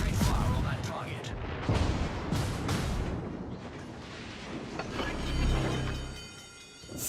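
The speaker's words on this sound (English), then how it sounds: "All stations, concentrate fire on the target." Warship guns fire at a target in a naval video game, with heavy booming salvos and rumbling blasts that come in bursts over a dense, loud battle bed, with a voice speaking over them.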